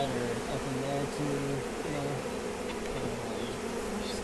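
A honey bee swarm gathered around its queen in a homemade bait trap drones continuously, a dense layered buzz with individual bees flying past, while a person speaks quietly over it outdoors.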